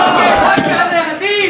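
A large crowd at a religious gathering shouts slogans in unison, a loud, reverberant roar of many voices that swells and holds, with a second wave of chanting toward the end.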